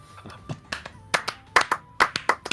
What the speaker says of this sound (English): I'm just gonna do a clap here so I can sync all audio up later